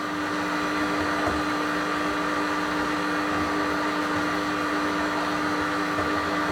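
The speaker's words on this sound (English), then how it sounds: "the machine is doing a really nice job of folding that through at just the right speed." A stand mixer steadily folding joconde sponge batter, giving a continuous, even motor hum with no speech.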